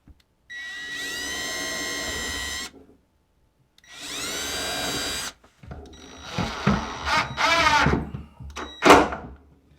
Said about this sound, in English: take an 1/8 inch drill bit, and I'm just going to drill out these holes.